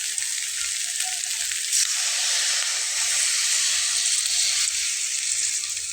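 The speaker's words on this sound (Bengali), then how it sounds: "এখন আমি এটাতে ঝোলের পানি অ্যাড করব" Curry water is poured into a pan of dry-fried taro root curry, and a loud, continuous steam hiss and sizzle fills the whole stretch without letting up.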